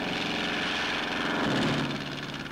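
A civilian patrol airplane drones overhead in 1940s footage, a steady propeller-engine hum that swells slightly midway, alone with no voices.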